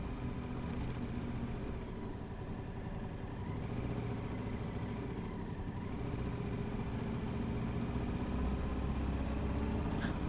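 Motorcycle engine running steadily at low revs beneath the torii at Hokuto Shrine, a continuous low rumble with no talking.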